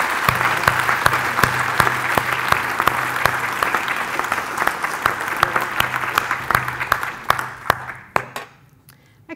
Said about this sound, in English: So big round of applause for Team Liverpool.